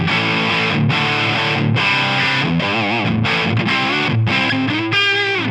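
An electric guitar played through a heavily overdriven amp model, loud sustained distorted chords and bending notes with no talking.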